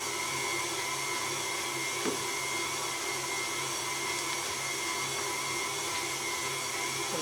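A KitchenAid stand mixer grinds beef from a quarter of a cow, its motor a steady, unbroken whir with a faint high whine, droning at constant level throughout, close and alone.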